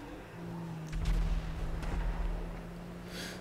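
Artillery bombardment in a night battle in a video game: a few heavy booms and thuds rumble over a steady engine-like drone, with a brief hiss near the end.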